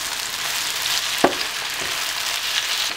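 Steady, loud sizzle of eggplant, potato and chopped tomato frying in a pan, with a brief clink of a utensil partway through.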